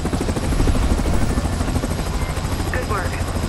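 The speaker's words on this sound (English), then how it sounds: "I can have the chopper bring you in" Helicopter rotor chop from the video game Splinter Cell Blacklist, a steady pulsing thump with engine drone, loud and close throughout, with voices speaking over it.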